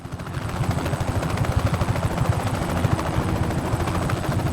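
Helicopter in the video game Just Cause 3, a steady loud rotor thump with a dense whirring chop, close and continuous, with no one talking.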